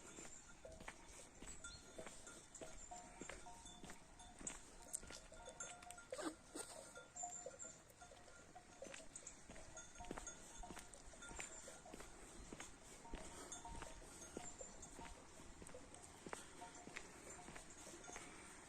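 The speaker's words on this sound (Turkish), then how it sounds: "Evet inekleri bulduk." Cowbells clank irregularly amid outdoor spring ambience in a Black Sea village in Ayancık, Sinop, Turkey, with cows shuffling and moving about at a moderate distance.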